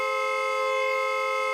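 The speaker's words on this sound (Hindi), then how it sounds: "अरे कौन है ये नॉन स्टॉप हॉर्न बजा रहा है?" A single steady, continuous horn blares without pause, loud and unbroken throughout.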